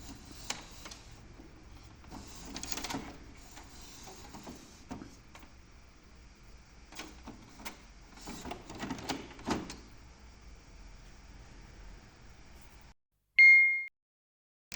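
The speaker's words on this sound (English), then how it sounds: "gently move the carriage by hand back and forth" A Canon printer's carriage is pushed back and forth by hand with the power off, giving clustered clicks and plastic rattles close by, then a short electronic beep.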